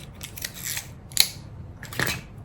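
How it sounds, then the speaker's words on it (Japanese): Scissors snip through the yarn ends of a tassel wrapped in paper, giving a few crisp, close cuts with quiet handling between them. "この端の部分をきれいにカットするというやり方になっていました。"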